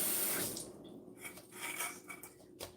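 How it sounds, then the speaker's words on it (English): Water runs from a kitchen tap into a pot of canned greens, a close splashing rush that thins and returns as the flow shifts, with no talk. "So, I add my water."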